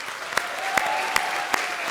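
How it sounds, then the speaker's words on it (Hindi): Steady applause from a comedy show studio audience, a continuous wash of clapping with a few sharper claps standing out at regular intervals. "तो भाई हमारे आज के सुपरस्टार राजा के लिए एक बार जोरदार तालियां हो जाएं।"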